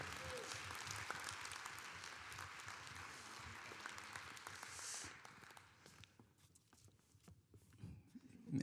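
An audience at a science conference claps for a school group that raised money for an institute, a dense, steady wash of applause that thins out after a few seconds into scattered claps and small noises.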